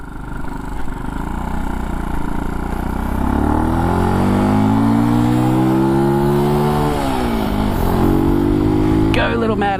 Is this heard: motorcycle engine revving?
yes